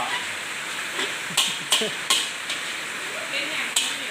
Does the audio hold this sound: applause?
no